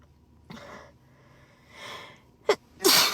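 A woman lets out a sneezing fit: a few soft sharp inhales build up before two close, forceful sneezes near the end, the last one loud and explosive.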